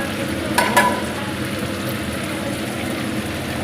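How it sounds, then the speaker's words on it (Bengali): Chicken pieces for chilli chicken sizzle in hot oil in a wok during a second round of frying, a continuous close crackle with a couple of brief clanks early on. "চিলি চিকেনের চিকেনটা ভাজা করছি তিনবার ভাজতে হবে"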